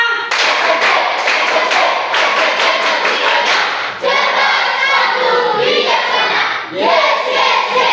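A Year 9 class in an Indonesian school claps together in loud, rhythmic counted patterns, tight bursts of hand claps in groups with brief pauses, with voices chanting along.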